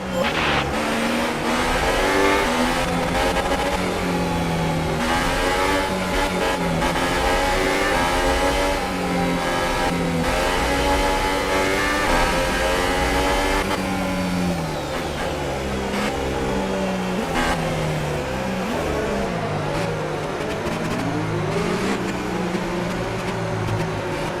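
A Formula 1 race car in a racing video game revs and accelerates continuously on a warm-up lap, its high whining engine climbing and dropping through the gears, loud and steady with no talk over it.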